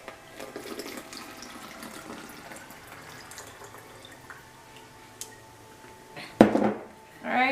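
Slime activator liquid poured into a container, a soft continuous trickle under faint background noise, ending in a few louder clattering knocks.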